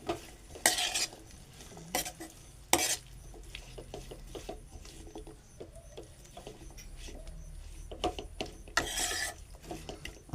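Potatoes stir-fried in a pan, with repeated scraping and clattering of a spatula against the metal over a faint sizzle, several sharp louder knocks standing out, no voices.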